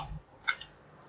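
Two quick, faint clicks of keys on a computer keyboard come close together in an otherwise quiet room.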